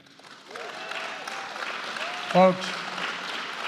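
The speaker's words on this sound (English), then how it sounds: "the cheering and stuff, all the woos and stuff coming from the background" Crowd cheering and applauding at a campaign event at the OB Johnson Community Center in Hallandale Beach, Florida, a steady wash of cheers and claps behind someone speaking, with a brief loud whoop midway.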